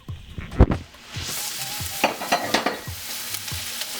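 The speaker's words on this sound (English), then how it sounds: "We're going to go ahead and put our quart of tomatoes" A quart of tomatoes goes into a pot of vegetables for Texas stew, with a sharp splash and thud followed by wet stirring and a soft sizzle, close and clear with no voices.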